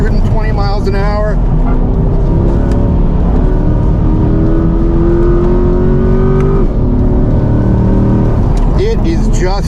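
A Chevrolet C8 Z51 Corvette, a stock showroom car, runs hard on a race track, its engine loud and close with shifting revs while a driver talks over it in the cabin.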